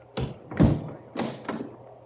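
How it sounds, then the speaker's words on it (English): Sound effect from an old-time radio drama of a salon door being shut and locked: four quick wooden thumps and clicks in two close pairs, crisp and near, with no talk. "I shall lock the salon door."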